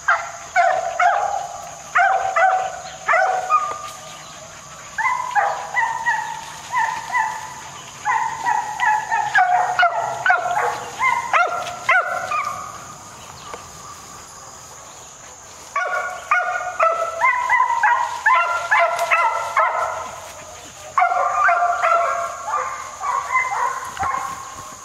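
A pack of hunting hounds bays during a fox hunt, their repeated yelping cries coming in bursts from some distance across open country, with brief quiet gaps between rounds of baying.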